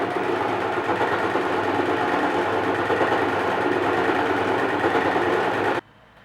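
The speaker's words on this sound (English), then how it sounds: "go ahead and sew at the top, the sides, and the crotch." A sewing machine stitching the seams of a hooded playsuit, running in one steady, close whir for several seconds before stopping abruptly.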